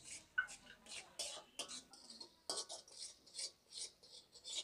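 Poppy seed paste with green chillies, tomato and onion being stirred and fried in a pan, soft scraping and sizzling strokes in an uneven rhythm, close and fairly quiet.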